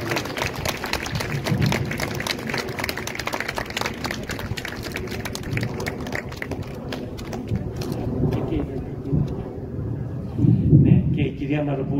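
A concert audience in Lixouri claps in sustained, dense applause that runs steadily for the whole stretch, swelling slightly near the end.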